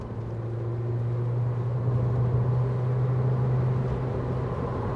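Nissan Cube Z11 engine held at high revs in sport mode, a steady droning hum with a strong low tone, continuous and fairly loud from inside the car.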